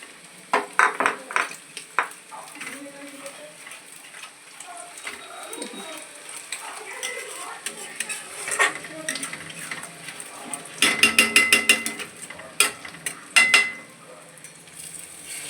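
Poppy seeds, makhana, cumin, cashews, raisins, green chillies and butter sizzle and fry in a pan, with scattered clinks and stirring scrapes that cluster into busier bursts, while a voice speaks intermittently.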